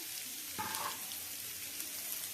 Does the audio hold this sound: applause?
no